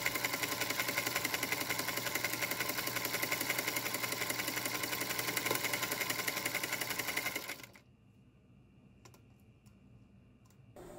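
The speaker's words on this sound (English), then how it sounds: "I prefer the look of the buttonhole being sewn twice, so I went around twice until I reached the bottom left again." A Singer sewing machine fitted with a buttonholer attachment chatters steadily and closely as it zigzags around a buttonhole, then stops abruptly after about seven seconds, leaving faint handling clicks in near quiet.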